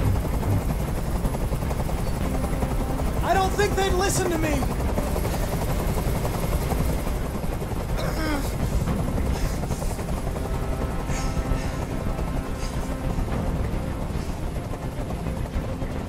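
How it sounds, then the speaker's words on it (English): A helicopter hovers overhead in the video game Detroit: Become Human as a constant, loud, dense rotor roar that fills the whole scene, with a short spoken line heard over it. "I can't stand that noise anymore. Tell that helicopter to get out of here."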